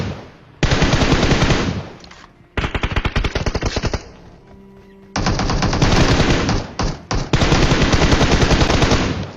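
Automatic gunfire in PUBG, with long loud sustained bursts separated by brief pauses and a quieter gap in the middle, close and dominant throughout.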